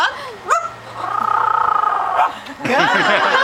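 Pet bird imitating a dog's bark with a few short yelping calls and a sustained nasal tone, heard near, with a person speaking around it.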